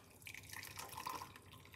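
Liquid from a homemade liver-cleanse recipe is poured off, giving a faint, close trickle with light drips and splashes against a quiet background.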